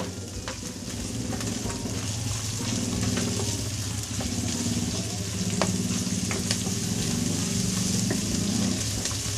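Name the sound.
garlic and onion frying in a pan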